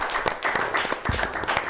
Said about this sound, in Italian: facciamo un bel applauso a questi ragazzi